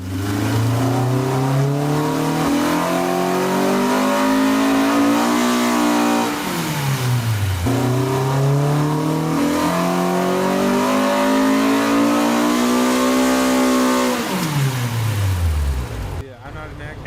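A Honda Civic EK hatchback engine screams through repeated dyno pulls, revving steadily upward in long sweeps before dropping off, loud and close throughout.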